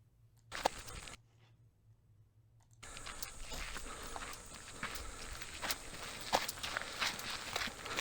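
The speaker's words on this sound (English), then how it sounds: "now you can really hear those footsteps" Footsteps on an edited video track, first a couple of faint steps, then after a near-silent gap a steady run of louder, close walking steps continuing to the end.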